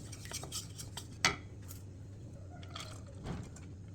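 A heavy-bottomed kadai set out for cooking carrot halwa clinks and clatters once sharply, then a few softer metallic knocks and scrapes follow, close and quiet over a low kitchen hum.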